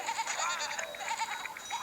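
Sheep bleating in the PS Vita game Idiot Squad, a run of wavering, nasal cartoonish bleats overlapping continuously for a couple of seconds, loud and close over faint game background.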